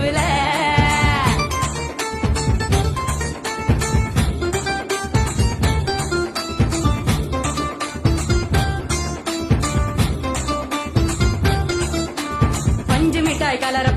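A goat bleats with a wavering cry near the start, then fainter bleats continue under loud, dense music and singing throughout.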